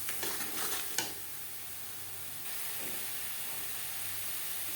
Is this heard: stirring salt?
yes